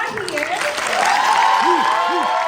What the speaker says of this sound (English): let's clap really loud so that they know y'all are